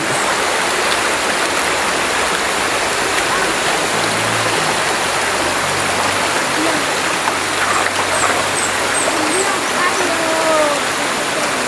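Constant rushing of flowing river water fills the scene, loud and steady throughout, with faint voices barely audible underneath.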